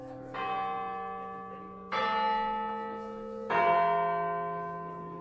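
A school bell rings out three times at the end of the day, each long resonant tone swelling and slowly fading before the next strike, heard from some distance with no talk.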